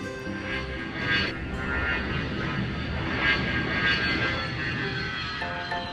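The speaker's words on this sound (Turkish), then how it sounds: "Motorları çalıştıralım." Airplane engines of a cartoon plane start up in a children's cartoon, a steady droning hum with layered tones that swells slightly and holds for several seconds, with no talk.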